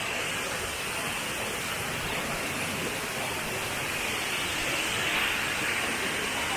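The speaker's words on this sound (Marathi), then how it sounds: "धबधब्यावरती" A waterfall near Bholewadi in Devgad, Sindhudurg, in the Konkan, pours as a constant even hiss of falling water, moderately distant and unchanging throughout, with no voices over it.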